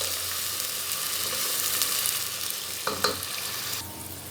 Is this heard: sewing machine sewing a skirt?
no